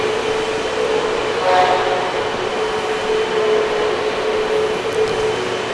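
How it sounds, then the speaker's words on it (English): A vacuum cleaner runs inside a museum, giving a steady droning whine with a hum beneath it, continuous and moderately close throughout. "where she's in there vacuuming"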